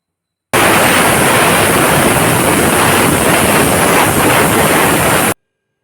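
A pressure cooker whistles on a stove, a loud, continuous hissing rush of steam that lasts about five seconds with no voices.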